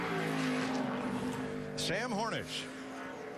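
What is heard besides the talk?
Ford NASCAR race car on track during qualifying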